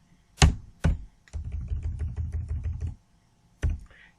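Someone types on a computer keyboard while entering an SQL statement: two separate heavy key thunks, then a quick run of steady clicking lasting about a second and a half, then a single final keystroke, all close and clear.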